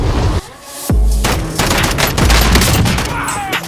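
An FAL used as a submachine gun fires in a Call of Duty match: loud, close bursts of rapid automatic fire, broken by a short pause and then continuing in dense sustained volleys.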